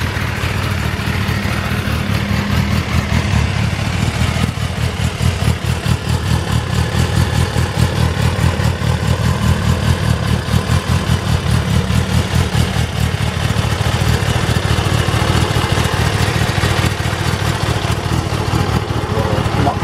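A 2021 Kawasaki ZX10R sport bike, freshly serviced, idles steadily at close range with a loud, even low-pitched engine throb and fast exhaust pulses, held at low RPM for the whole stretch.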